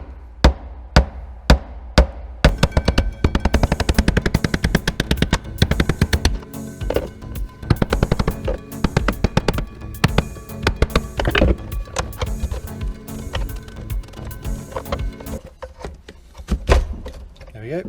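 A screwdriver knocks against the lugs of the fuel pump locking ring on a Land Rover Discovery TD5: a fast series of sharp metallic taps, close and loud, sparse at first and then dense and steady.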